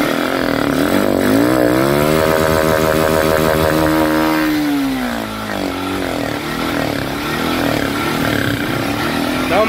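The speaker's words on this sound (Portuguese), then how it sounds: "deixa a moto em alta rotação, pede pra alguém segurar" A motorcycle engine revs hard and high during a fuel injector cleaning, rising and falling in pitch while held at high RPM, loud and close throughout.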